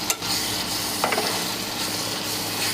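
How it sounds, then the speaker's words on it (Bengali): Spice paste being stirred and fried in a pan with salt, a steady sizzle with scraping strokes of a spoon close by, continuous with no talking. "এখন আমি ভালোভাবে মশলাটা মিক্স করব এবং কষিয়ে নিব।"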